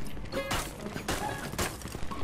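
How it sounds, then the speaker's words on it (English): A Valorant weapon reload gives off a quick run of mechanical clicks and metallic clacks, loud and close, with several sharp bursts spaced across the moment. "Reloading!"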